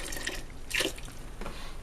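Cooking wine poured into a pot of Cuban-style black beans, giving a brief liquid splash and trickle in the middle, with a softer splash near the end, over faint kitchen background noise.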